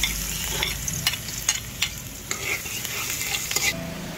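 Garlic frying in oil in a pan for a Filipino home-cooked breakfast and lunch, a steady close sizzle broken by repeated scraping clinks of a utensil stirring, with no talking.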